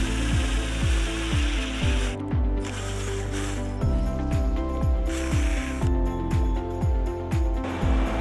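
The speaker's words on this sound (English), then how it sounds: "Install the self-tapping screw and external washer to secure the mechanism" Screw being driven into a treadmill frame, repeated falling ratcheting whirs in quick succession with a mechanical, gear-like tone, steady and close with no talk.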